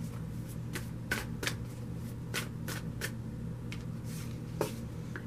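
A tarot card deck being shuffled by hand, with repeated quick riffling bursts and soft card slaps over a steady low room hum, close and fairly quiet, with no talking.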